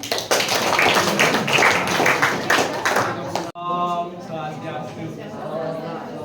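Classroom applause from students, a dense burst of many hands clapping for about three seconds before cutting off abruptly, followed by talking in the room.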